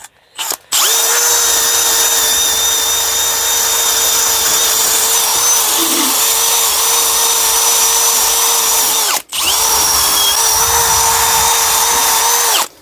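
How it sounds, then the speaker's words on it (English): A power drill spins a wire brush against metal on a Skoda 120 engine in a loud, steady whine, briefly stopping once then starting again, with no voices. "all it is just a wire brush and drill"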